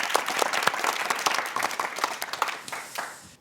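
Studio audience applause on a military quiz show, a steady patter of many hands clapping at moderate level for a few seconds, with faint talk underneath and no pause in the clapping.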